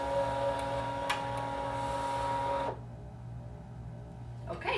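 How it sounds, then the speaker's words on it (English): A Brother ScanNCut machine scanning fabric with a steady whirring, humming drive for a few seconds, then stopping abruptly into quiet room tone, with a faint click near the end. "It's going to scan in the fabrics."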